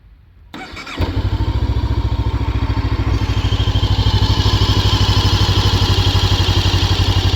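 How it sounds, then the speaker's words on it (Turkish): An RKS M 502 N motorcycle engine cranks and fires after a second, then settles into a loud, steady, rapid-pulsing idle that continues to the end. "Şimdi motorumuzu bir çalıştıralım."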